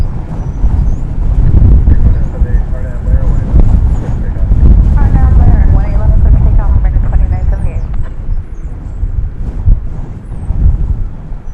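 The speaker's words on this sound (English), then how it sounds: "Being buffeted by the winds right now." Gusts of wind buffet the microphone at an airport in a dense, low rumbling roar that lasts throughout, with distant jet noise and a voice talking beneath it.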